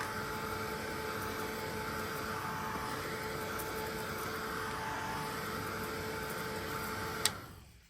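A heat tool blows steadily for several seconds, drying a stencilled holly bauble card as it sweeps back and forth, a continuous even whir that cuts off abruptly near the end.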